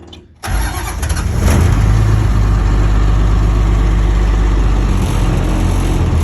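A Nissan SD33T diesel engine cranks briefly, then catches and settles into a steady, loud, low rumbling idle, close to the microphone with no talking.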